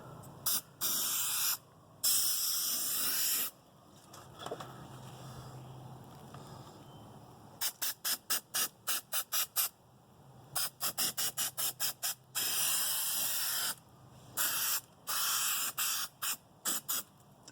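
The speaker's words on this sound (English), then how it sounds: "I just take this adhesive and I spray everywhere" Repeated bursts of aerosol adhesive spray hissing close by in a 1982 Mercedes 300TD, some long sweeps and a run of quick short puffs, with brief pauses between.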